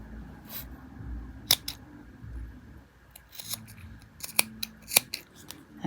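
Scissors snip beading thread in a few sharp, close clicks, with quiet pauses between the cuts and no talking.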